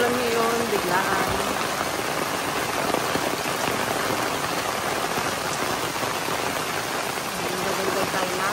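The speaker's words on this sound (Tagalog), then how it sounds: "Malakas ang ulan ngayon, biglaan." A sudden heavy downpour drums steadily at a car camping park, a dense, constant hiss of rain on surfaces with faint voices under it.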